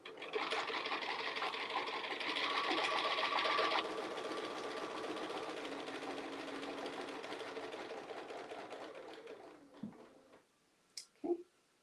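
A sewing machine stitches steadily while quilting around the squares of a panel sandwich, running as a quiet, even mechanical whir for several seconds, then slowing and ending with a few faint clicks.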